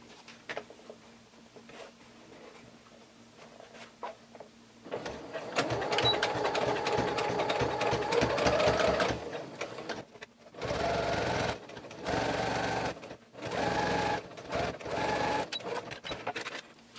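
A sewing machine top stitches a bag pocket with the lining held aside, running in several close, loud bursts separated by short pauses, after a quiet stretch of handling.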